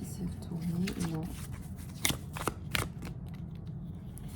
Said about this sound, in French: J'ai une carte qui s'est retournée